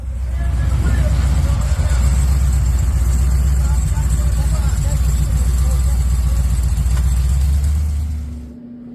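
A supercharged LS V8 in a G-body car runs with a loud, steady low rumble that holds for about eight seconds before cutting off near the end.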